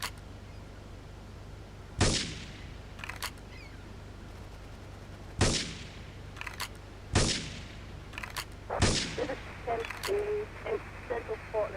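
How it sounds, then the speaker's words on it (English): Video game gunfire: four or five sharp, separate shots spaced a few seconds apart, crisp but moderate in level, over a low steady background hum, with talking in between. "Investigate reports of gunfire and explosions."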